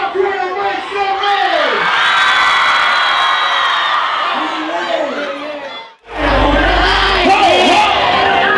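A show crowd cheers, whoops and yells loudly and continuously, with shouting voices over the roar, a brief drop near the middle and then a renewed burst of cheering.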